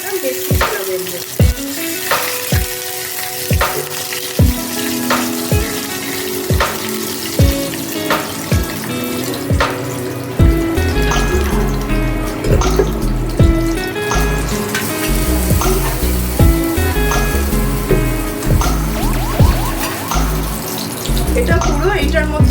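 Green chillies and chopped fenugreek sizzle in hot oil for methi chicken, a steady frying hiss with repeated sharp clinks and stirring knocks, and a denser crackle building partway through.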